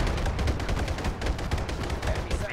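Rapid bursts of battlefield gunfire from units in the WWII strategy game Sudden Strike 4, continuous and fairly loud across the whole stretch, with dense overlapping shots and no clear pauses.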